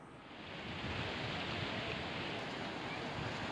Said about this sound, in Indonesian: Begitu indah ombak-ombaknya.